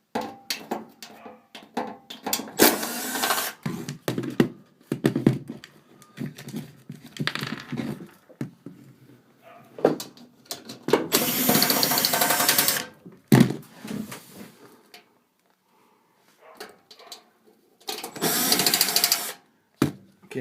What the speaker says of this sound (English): Now we're going to remove these screws right down here.